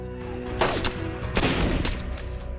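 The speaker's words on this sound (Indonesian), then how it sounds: "Lalu Angel yang berhasil menjatuhkan Fowler membuat pihak kepolisian menembak Fowler karena berusaha melakukan perlawanan." Police open fire in a film scene: several loud gunshot bursts ring out over an intense, droning music score, which carries on under the shots throughout.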